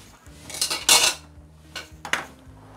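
Salad is tossed in a bowl with utensils, giving close, bright clinks and scrapes in a few quick bursts separated by short pauses.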